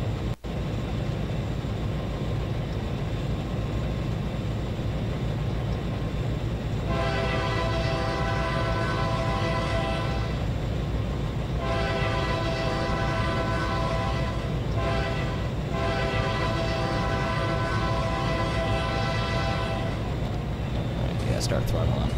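A model railroad train starts climbing a steep 2.5% grade, giving a steady running rumble with repeated bursts of a tonal horn-like whistle, loud and close under a constant background.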